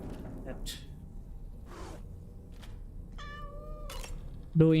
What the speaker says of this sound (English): Doing cat things.